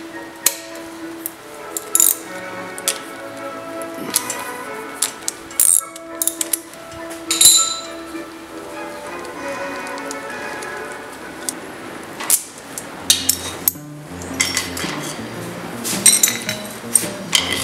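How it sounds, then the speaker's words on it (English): A socket wrench removes the timing chain from a Ford Mustang 200 engine during a rebuild, giving scattered sharp metallic clinks and taps at irregular intervals over a faint steady hum. "now I'm going to take this timing chain off"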